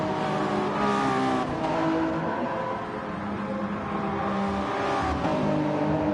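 Race car engines from a racing video game, a Mazda among them, at an endurance race at Barcelona: a steady, loud, dense drone of revving motors with tonal harmonics, continuous for the whole stretch with no voices.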